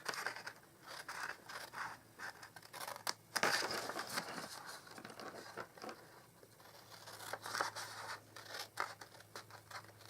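Scissors snip through cardstock for a Stampin' Up Joyous Noel gift box, a run of close, crisp cuts and soft paper scrapes repeating steadily over a faint low hum.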